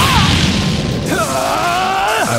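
A fiery explosion storm attack from Naruto Shippuden: Ultimate Ninja Storm Revolution erupts in a loud, dense burst, followed by swelling whooshing tones and a shouted voice over the blast.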